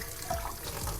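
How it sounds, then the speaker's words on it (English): Tap water runs steadily into a sink, rinsing a round cast iron pan after scrubbing off stuck-on bits from cooking steak; a soft, continuous splashing flow close by. "Give it another rinse, like that."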